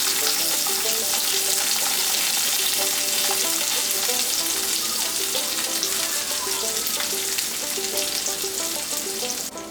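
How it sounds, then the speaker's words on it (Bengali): Assorted vegetables sauté in a little oil in a pan for Bangladeshi sheek kabab, a steady, close sizzle with stirring clatter running the whole time, no talking. "আমি জাস্ট খুবই সামান্য তেল নিয়ে নিয়েছি, এর মধ্যে পছন্দ মতো বিভিন্ন ধরনের সবজি দিয়ে দিচ্ছি"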